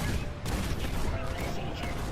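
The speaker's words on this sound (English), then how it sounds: "Soldier, man the cannons. The cannons are ready. Fire it." Ship cannons firing in the video game Fallout 4, a dense rolling barrage of booming blasts and clatter filling the whole moment, with game voices mixed underneath.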